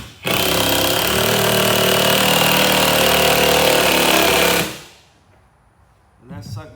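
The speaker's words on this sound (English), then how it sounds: "we'll get in here and start setting screws in. These are 1 5/8 screws I'm using on the stringers" A power driver sets 1 5/8 inch screws into the floor stringers of an 18-foot Majek Red Fish Line boat during a rebuild: one loud, continuous motor whir for about four seconds, then it winds down, followed by a brief voice.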